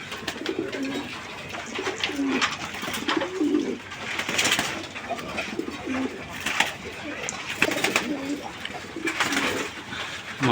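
Giribaz pigeons, a pair of original Hammer-line birds including an aluminium-silver one, coo in repeated low rolling phrases close by, with some chirping and background noise throughout.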